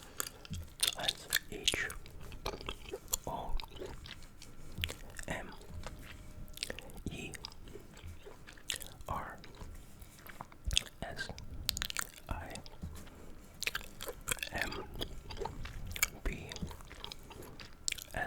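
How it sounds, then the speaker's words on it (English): Gum being chewed close to the ear, with soft wet smacks and clicks repeating steadily and continuously, among faint rustling and quiet whisper-like mouth sounds. "if you can't tell, I'm chewing gum also. So I hope you enjoy those gum sounds."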